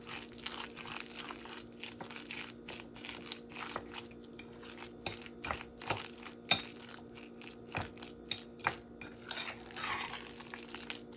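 Chickpea salad with lemon is stirred in a bowl, giving soft, irregular crunches, squelches and clicks of the utensil against the dish, close and quiet with no talking.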